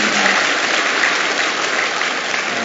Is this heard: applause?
yes